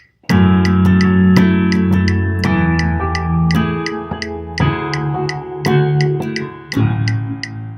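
Keyboard plays the lead part of a worship song in a swinging 6/8 feel, bright sustained chords with rhythmic, percussive note attacks, loud and alone.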